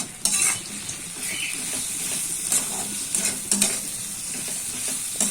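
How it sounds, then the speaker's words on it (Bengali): Chili powder and coriander powder are stirred with tomato and onion in a pan for a desi tangra fish curry, giving a soft sizzle beneath intermittent scraping clinks of a spatula against the pan. "ভালো করে নাড়াচাড়া করে নেব।"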